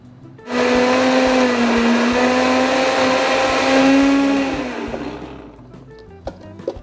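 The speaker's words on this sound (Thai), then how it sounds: "ใส่เข้าไป แล้วก็ปั่นครับ" An electric blender crushes ice for a caramel frappé, a loud steady whir that kicks in abruptly, holds with a slight rise in pitch, then winds down and cuts off, leaving a few faint clicks.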